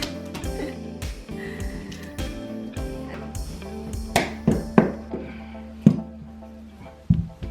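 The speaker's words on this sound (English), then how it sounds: "So now we're starting with taking off the baseboard." Baseboards being pried off a wall during a floor renovation, heard as irregular knocks, clinks and sharp taps that grow louder and more frequent toward the end, with a faint murmur in the room.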